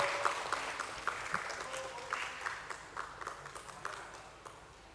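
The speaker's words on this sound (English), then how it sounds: "nice big round of applause, ladies and gentlemen" Audience applause at a bond listing ceremony for Power Finance Corporation on the Bombay Stock Exchange, a steady wash of clapping from a crowd that holds level for several seconds with occasional sharper claps, heard without talk.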